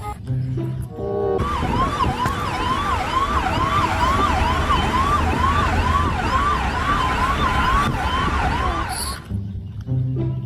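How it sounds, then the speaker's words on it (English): An ambulance siren wails in a fast, repeating up-and-down pattern, loud and close, with traffic rumble beneath it for most of the stretch before it cuts off. "emergencies, ambulance cars."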